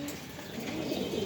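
Pigeons cooing at a pigeon farm, soft low throaty coos from nearby birds over a faint background hum, with no voices.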